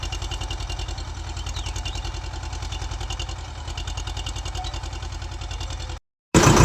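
A Swaraj 724 tractor engine chugs steadily in a fast, even throb, loud and close, then cuts off briefly before roaring back.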